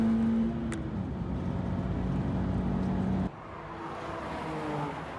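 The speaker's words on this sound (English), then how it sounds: "I've got to start sending my car hard." A stock Nissan 370Z driven hard around Sydney Motorsport Park, its engine droning loud and steady before the note drops sharply partway as the throttle lifts, then rising again, heard from close by with no talk.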